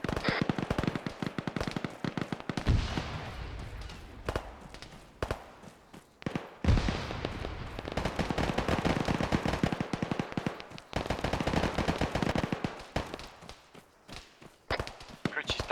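Grenade blast and gunfire in a multiplayer shooter game, heard as sharp bursts and booms that come and go across the stretch, with players talking over the action.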